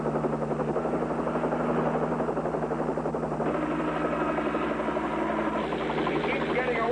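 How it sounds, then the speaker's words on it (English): A highway patrol helicopter flies directly overhead, its steady rotor and engine drone loud and continuous, with a faint rhythmic chop running throughout. "Highway patrol copter, right on top of it."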